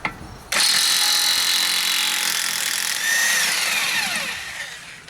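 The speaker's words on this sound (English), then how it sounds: "I have a 36mm deep well impact socket on the Kobalt corded impact wrench" A Kobalt 1/2-inch corded 8.0 amp electric impact wrench with a 36mm deep well impact socket spins off an axle nut, starting abruptly after a brief pause and running loud, close and continuous in a high whirring hammer.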